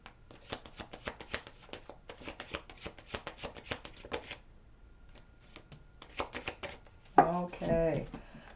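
Tarot cards being shuffled by hand in two bursts of quick riffling, close and crisp, with a short pause between them and a brief louder clatter near the end.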